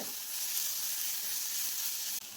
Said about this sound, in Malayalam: ഒരു തണ്ട് കറിവേപ്പില ഇട്ട് കൊടുക്കാം. എല്ലാം കൂടി ഇട്ട് കൊടുത്തൊന്ന് ഇളക്കി കൊടുക്കാം.